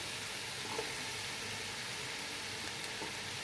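Vegetables sizzle and fry in a pan for Chinese-style restaurant vegetable rice, a steady close hiss with no talking.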